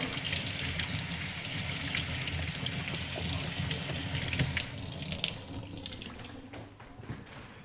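Carrots rinsed under a running kitchen tap, a steady broadband splash of water into a sink that stays loud throughout and thins slightly near the end.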